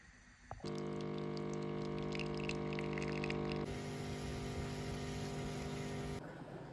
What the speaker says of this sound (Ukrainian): Під прекрасні звуки посудомийної машини.